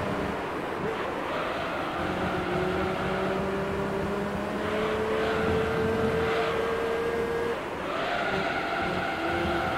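Race car engines drone while tires squeal in a long slide in Gran Turismo 3 with a Beetle and an MR2 in the field, rising and falling tones over a constant rushing roar, loud and close without a break.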